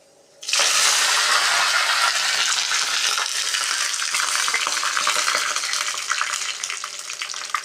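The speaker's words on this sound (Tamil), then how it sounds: "கடுகு உளுத்தம்பருப்பு போட்டு கருவேப்பில போட்டுருங்க எண்ணெய் பற்ற போது" Mustard seeds, urad dal and curry leaves dropped into hot oil for a garlic chutney tempering, bursting into a loud, dense sizzle that starts suddenly and crackles on steadily, easing off slightly toward the end.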